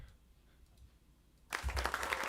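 A canned applause sound effect bursts in after a quiet stretch, a sudden loud wash of crowd clapping during a livestream.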